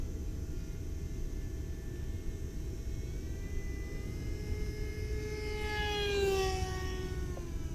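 A small radio-controlled stick airplane makes a loud low pass, its high-pitched motor whine rising and then sweeping down in pitch as it passes nearby over steady wind noise.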